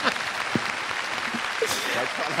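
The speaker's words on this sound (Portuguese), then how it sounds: "muitos aplausos aí" Audience applause at a comedy talk show, a dense, even patter of clapping that fills the whole short stretch, with a few voices mixed faintly underneath.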